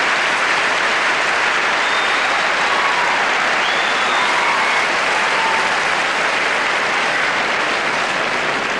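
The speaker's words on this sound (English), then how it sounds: "Well, Virginia, the applause from the crowd is really a relic" Loud, continuous crowd applause fills an outdoor tennis stadium at Wimbledon after match point of a 1992 women's match, a steady roaring wash of clapping with a few faint whistles, unbroken for the whole stretch.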